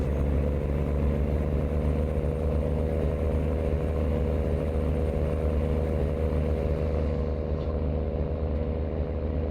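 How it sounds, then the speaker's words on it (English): A truck in American Truck Simulator drives along with its windows rolled down, giving a loud, steady low engine drone and road rumble that hold constant throughout. "Yes, windows are rolled down."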